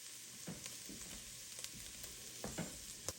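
Vegetables with garlic, carrot and rosemary frying in a pot for homemade vegetable stock, with soft steady sizzling and several scraping stirs of a utensil at irregular intervals.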